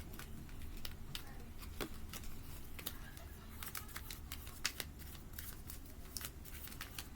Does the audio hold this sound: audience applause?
no